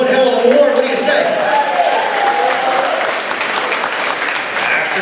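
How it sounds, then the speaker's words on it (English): Loud, sustained applause from a crowd at a corporate boxing Christmas event, dense clapping filling the whole stretch after a three-round bout, with some cheering mixed in. "Let's have a round of applause for these two fighters."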